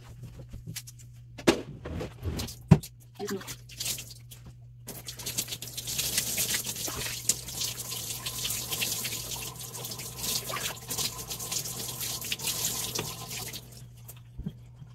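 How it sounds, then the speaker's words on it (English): Warm tap water runs for washing hair, a steady splashing patter that starts after a few seconds of quiet clatter and flows close by until cutting off near the end. "Wash it with warm water."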